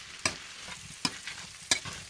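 Potatoes and hot dog are stirred in a frying pan, three distinct scraping strokes against the pan over a soft continuous sizzle, close up with no talking.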